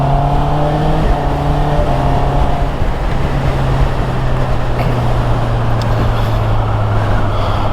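A Honda CB650 with E-Clutch out on a ride, its engine droning steadily and loudly throughout, the pitch stepping and sliding as the revs change.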